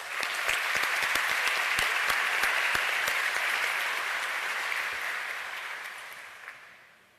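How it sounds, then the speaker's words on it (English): A round of applause at a Bossier Parish Community College commencement ceremony, broad steady clapping from a large audience that holds strongly for several seconds then fades away toward the close. "Let's give him one more round of applause."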